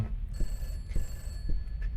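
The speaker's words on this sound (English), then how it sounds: "Shut the phone up." Telephone ringing in a horror video game, a faint thin electronic ring repeating in short pulses over a low rumbling ambient drone, with no voices.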